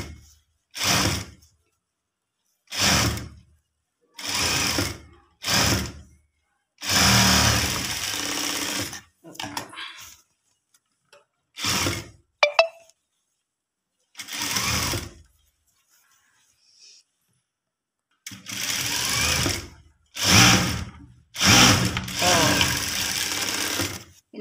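A sewing machine stitches a sleeve seam in repeated short, whirring runs separated by silent pauses, with one longer stretch of steady stitching, close and clear.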